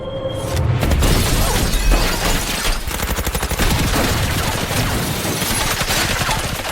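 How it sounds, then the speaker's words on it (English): Rapid bursts of gunfire crackle continuously as assassins shoot through windows in a film, with breaking glass, dense and loud throughout, like an intense shootout scene with no pauses. "several assassins shoot at her through the windows"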